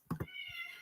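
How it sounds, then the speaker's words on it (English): A cat in another room cries out twice in quick, faint meows, followed by a quieter, muffled sound. "That is a cat crying."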